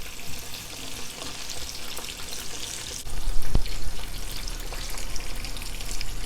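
Fish pieces with curry leaf powder sizzle steadily in hot oil in a pan, a continuous crackling fry with a brief knock of utensil partway through and a slightly louder burst after, no talking.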